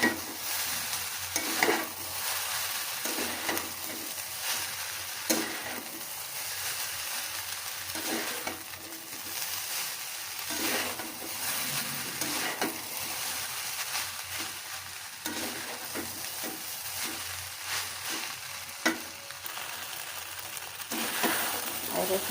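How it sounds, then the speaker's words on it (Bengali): Noodles are stirred in a pan after salt is added, with repeated scraping strokes over a low, steady sizzle, close and moderately quiet, and no talking. "লবণটা দিয়ে আমি সুন্দর করে নাড়াচাড়া দেবো।"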